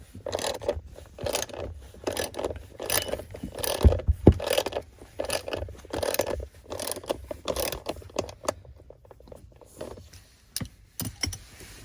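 Bolts being tightened with a ratchet while installing an aluminum screen mount in a Tesla Model 3, close rapid clicking bursts in repeated rhythmic runs with brief pauses and a few sharp metallic knocks.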